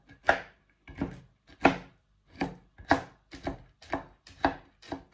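Nuts chopped with a knife on a board, about a dozen crisp, close knocks in an uneven steady rhythm, heard alone.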